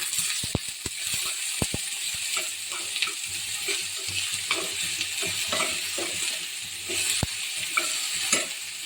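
A pan of food being stirred over a low flame: steady scraping and clicking strokes of a spoon over a soft, continuous sizzle, with a few sharper knocks against the pan, close and fairly loud, without talk.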